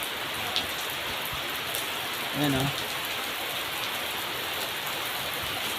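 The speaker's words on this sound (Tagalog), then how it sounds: "Bigla na naman bumuhos ang napakalakas na ulan." Steady heavy rain pours down in a dense, constant hiss, with a brief voice speaking midway through.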